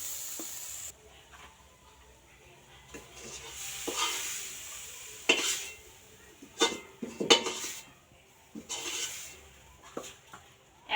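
Coconut and jaggery filling for bhapa puli pitha is stirred in a pan, with a spoon scraping and clinking against the metal in uneven bursts over a faint sizzle.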